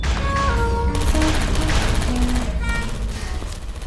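Turrets in the video game Aperture Tag fire in rapid automatic bursts, dense rattling volleys that run through most of the moment with short electronic beeps and tones over them and no talk.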